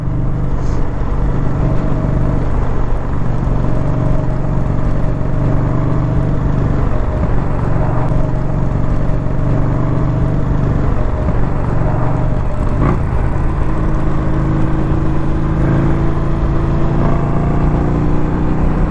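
A 2021 Indian Scout Bobber motorcycle pulls through its gears with a steady, deep engine drone and rising revs, heard close and continuous over wind rush for nearly twenty seconds.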